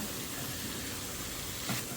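Cut potatoes fry in hot oil for a Chettinad mutton kulambu, giving a steady, dense sizzling hiss that holds even and close throughout with no talking.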